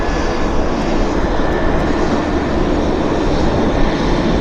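An airplane taxiing at Vancouver airport, heard from on board: a loud, steady, broadband engine roar that fills the whole stretch without letup.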